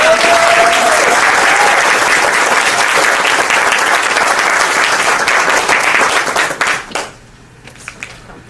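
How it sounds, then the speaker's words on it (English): Loud applause from a brunch crowd at a Minnesota Medical Association event greets a new president, a dense, sustained roar of clapping that fades out near the end, leaving a few stray claps. "Let's give a round of applause for Dr."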